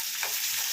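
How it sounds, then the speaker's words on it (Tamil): Red chillies drop into a pan of cashews frying to golden brown, giving a brief, dense hiss of sizzling oil up close. "முந்திரி கொஞ்சம் கோல்டன் ப்ரௌன் வந்தவுடனே இந்த சிகப்பு மிளகாய் இதை போட்டுக்கிறேங்க"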